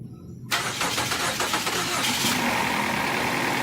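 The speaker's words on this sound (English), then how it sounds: "Begin starting engine now." A Ford car engine cranks and catches at about half a second, then runs on steadily at a loud, close idle with some roughness, filling the rest of the clip with no talk.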